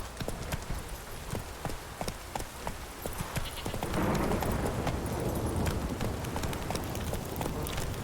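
Horse hooves clip-clopping in The Witcher 3, a steady, rhythmic run of close, crisp hoofbeats that grows into a denser, louder gallop partway through, with no speech.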